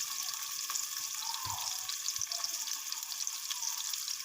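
Chopped onions dropped into hot oil in a frying pan give a steady, close, bright sizzle, with a couple of soft low thumps as they land and a few light scrapes.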